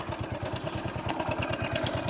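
A Hero Passion Plus motorbike engine running with the clutch held as it is put into first gear, a steady close mechanical putter with an even pulsing beat throughout.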